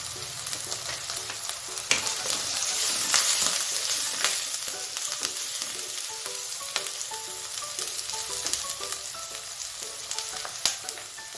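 Curry leaves and red chili powder sizzle and crackle steadily in hot oil for restaurant-style veg fried rice, a close, continuous frying hiss with scattered pops and light stirring.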